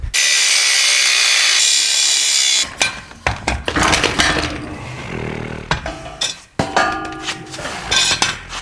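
A power tool cuts off a tack-welded part on a Land Rover in a workshop: a loud, steady high-pitched grinding whine for about three seconds, then broken, scraping cutting noise with short bursts and pauses.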